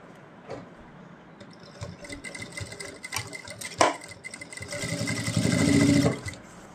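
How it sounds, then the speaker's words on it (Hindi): A sewing machine stitches a ban collar on a kurti, running in short uneven bursts that build to a louder, steadier whir near the end. "और ऐसे हम एक सिलाई लगाएंगे।"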